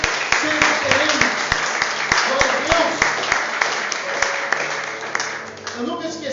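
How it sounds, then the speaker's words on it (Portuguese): A church congregation claps during worship, a sustained dense patter of hands under a loud sung or spoken voice, with sharp rhythmic knocks marking a beat throughout. "Aplaude o Senhor, aleluia"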